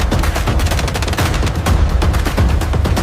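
A bamboo paper bag making machine ejects finished bags at high speed, giving a loud, dense, rapid-fire clatter that repeats steadily like machine-gun bursts throughout, with no voices.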